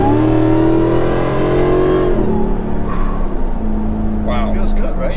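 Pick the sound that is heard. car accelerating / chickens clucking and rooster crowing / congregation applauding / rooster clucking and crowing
car accelerating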